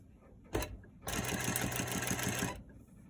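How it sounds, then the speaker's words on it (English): Close sewing machine stitching the facing of a built-up bateau neckline: a single soft click first, then a fast, even whirring run of stitches for about a second and a half before it stops. "So now I will stitch the facing."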